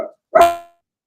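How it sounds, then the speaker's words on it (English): A dog gives one short bark outdoors, heard through an open window, faint and somewhat distant, with a brief bit of room noise just before it and quiet afterward. "I have my window open, so I heard the dog bark outside"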